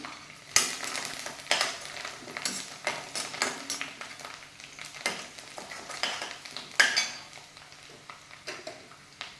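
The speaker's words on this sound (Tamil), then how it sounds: "நல்லா பச்சை வாசனை போகிற அளவுக்கு இதை வதக்கிக்கலாம்." Green chili, ginger, garlic and curry leaves sautéing in a pan for fish molee, with a soft sizzle beneath repeated spatula scrapes and metal clinks against the pan, close up, irregular strokes, no talk.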